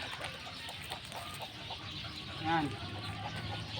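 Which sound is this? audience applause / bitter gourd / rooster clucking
rooster clucking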